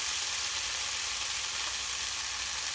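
Food stir-fried in a pan gives a steady, close, bright sizzle with a soft crackle running throughout and no voices over it.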